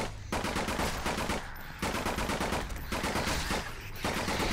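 Sustained automatic fire from a gun in the horror shooter Nightmare House 2, loud rapid shots in long bursts broken by three brief pauses.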